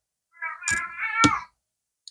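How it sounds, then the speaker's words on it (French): A house cat meows indoors, two drawn-out, tonal meows that run together, followed by a brief soft click and then quiet. "Désolée pour mes chats."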